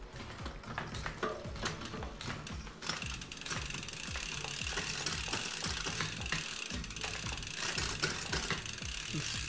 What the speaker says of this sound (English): Very nice feel on the XT shifter, much more different than the SLX. So this thing shifts. So this is with the clutch off.